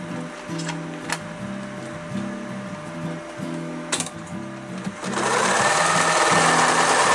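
A sewing machine stitches folded webbing on a rollup backpack, its close needle chatter running in a steady rhythmic pattern, then switching to a faster, louder continuous whir near the end.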